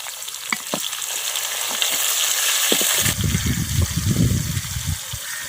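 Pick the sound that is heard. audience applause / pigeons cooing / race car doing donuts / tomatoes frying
tomatoes frying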